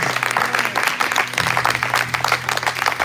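A church congregation applauds after a prayer, a dense, steady wash of many hands clapping at close range throughout, with a low hum and faint voices beneath.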